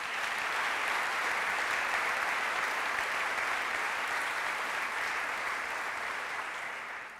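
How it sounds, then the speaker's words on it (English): Steady, dense applause from a large audience honoring front office staff at a Chief Justice swearing-in ceremony, sustained evenly for about seven seconds and then starting to taper, with no talking over it. "Would you please give them a round of applause?"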